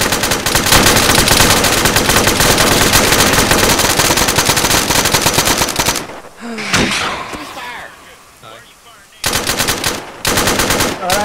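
Rapid machine gun fire in the video game Arma, loud and dense for about six seconds, then breaking off into scattered shots and voices before a final loud burst resumes near the end.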